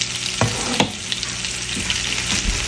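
Chopped onion and garlic sizzle steadily in a pan of hot fat, a dense crackling hiss with a few sharp clattering stir strokes, close and fairly loud with no voices.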